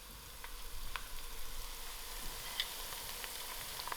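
Thyme, curry leaves, ginger and garlic sizzle steadily in hot oil in a pan for mixed vegetable curry, a soft even crackle with a few faint pops and no voices.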